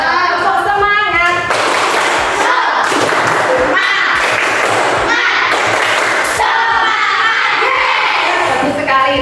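Schoolchildren in a classroom clap in rhythmic bursts as part of an energetic group chant, with loud clustered claps, thumps and children's voices shouting along, close and lively throughout.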